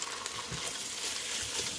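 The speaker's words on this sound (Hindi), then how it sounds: "बटर में लहसुन को सौटे करने के बाद मैं अब इसमें चिकन डाल दूँगी।" Raw chicken dropped into a pan of garlic sautéed in butter for a chicken noodle and vegetable soup, giving a steady, close, bright sizzle with faint stirring scrapes throughout.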